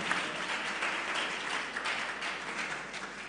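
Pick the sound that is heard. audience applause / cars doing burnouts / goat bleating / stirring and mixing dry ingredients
audience applause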